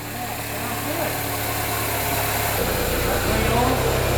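A Mini Cooper engine, mid-rebuild and on a first test run, rumbles steadily up close with a vibrating idle and a slight shift in tone partway through, while people talk over it.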